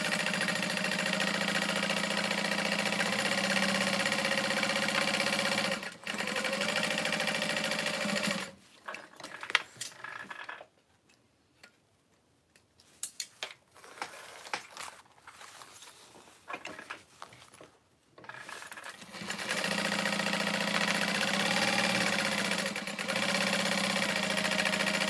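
A sewing machine bastes the sides of fabric for a mini bowler bag, running with a steady, close motor whir for several seconds. It pauses amid quiet handling clicks, then runs steadily again to the end.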